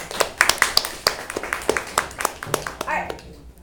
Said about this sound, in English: I want y'all to do that same clapping again